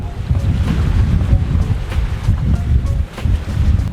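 A sailboat moving over long, smooth ocean swells in a steady wind, giving a continuous roar of wind noise and rushing water with no pauses or talking.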